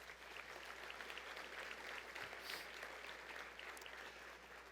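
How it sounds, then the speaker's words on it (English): Audience applause for award winners at a conference luncheon general session, a steady wash of clapping that holds evenly for several seconds, faint and distant in a large ballroom. "Let's give them all one big round of applause"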